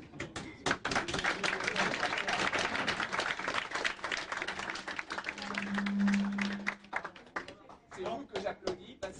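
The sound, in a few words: applause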